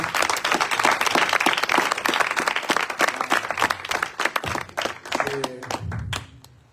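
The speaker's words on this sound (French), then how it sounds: "Est-ce que nous pouvons acclamer pour lui pour l'honorer?" A church congregation applauds pastor Anatole with sustained, dense clapping from a crowd, steady and loud for several seconds, then thinning out as a voice begins speaking near the end.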